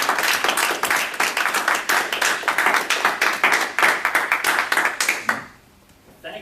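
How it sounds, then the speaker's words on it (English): Audience applause at a Toastmasters meeting, a small group clapping in a brisk, distinct rhythm that stops abruptly after about five seconds, leaving near silence. "Thank you, fellow Toastmasters and guests, for that wonderful applause"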